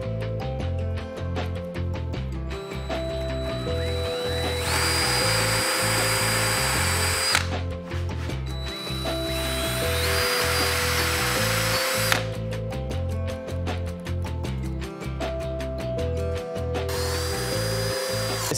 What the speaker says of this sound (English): and then we'll drill those by hand.